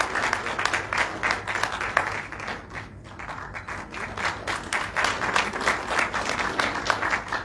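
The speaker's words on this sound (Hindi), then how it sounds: "मैं चाहूंगा जोरदार ताली आप सबकी तरफ से बजनी चाहिए" An audience claps loudly at a spiritual discourse gathering, sustained crowd applause with a brief dip midway before swelling again, no speech over it.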